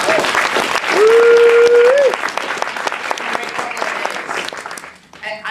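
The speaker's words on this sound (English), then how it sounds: "let's give a big round of applause to Scott and Wendy and Claire" Loud, sustained applause from a sizable crowd, with a few whoops rising over the clapping before it gradually thins out toward the end.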